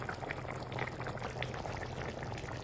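Creamy chicken gravy with yogurt, oil and water simmering in a pan, giving a steady close bubbling and sizzling that runs continuously without talk.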